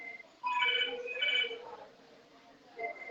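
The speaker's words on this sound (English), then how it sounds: "The phone doesn't stop ringing." A telephone ringing in a dog grooming shop during the grooming of a Pomeranian, several short electronic ring bursts, moderately quiet, alone in the room.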